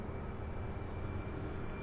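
An American Airlines jet taking off at Louisville International Airport: a steady, distant engine roar that stays even and low in level throughout, with no voices.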